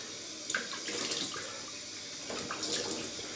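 Cold water runs from a bathroom tap into a sink during a shave, a steady broadband rush at close range with a few brief splashy surges, no talking over it.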